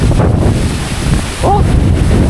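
Strong wind roars and buffets the microphone steadily and loudly, with a brief voice partway through.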